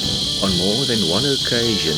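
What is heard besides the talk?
cicadas buzzing loudly like an angle grinder in Botswana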